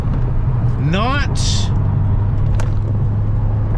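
A 1995 Chevrolet Corvette with 300 horsepower and a four-speed rumbles steadily on the highway, its engine tone rising in pitch through a brief rev while someone talks briefly over it.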